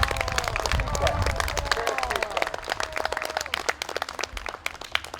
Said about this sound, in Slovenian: En aplavz za vas.